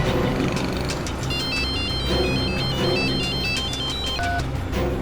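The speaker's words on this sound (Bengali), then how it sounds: "আমি এক্ষুনি ফ্রেডরিক্সকে ফোন করে জিজ্ঞেস করছি" A telephone ringtone plays steadily through the whole stretch as a call is placed, a repeating electronic melody over a continuous background bed, with no voices over it.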